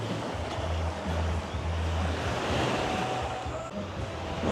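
Ocean waves breaking on Long Beach, Phu Quoc, a continuous loud wash of surf with rolling low swells and some wind noise, no clear speech.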